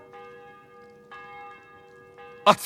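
A church bell tolls in Kingdom Come: Deliverance II, three clear rings spaced about a second apart, each with a bright, lingering tone, before a sharp louder noise cuts in at the end.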